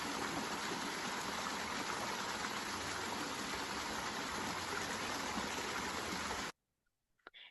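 Water rushing steadily through a canal at Río Blanco in Chiapas, passing under a cover, a dense continuous broadband flow that cuts off abruptly near the end, leaving brief faint sounds.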